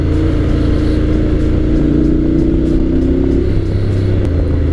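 Honda X-ADV 750 scooter engine revving steadily while held in second gear, a loud continuous drone whose pitch climbs gradually and then settles, with no talk over it.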